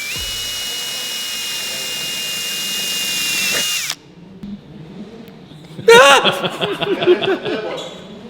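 A power drill whirs at a steady high pitch for about four seconds and then stops, followed by clattering car workshop noises and a short chuckle, with the drilling done while standing on a vehicle lift.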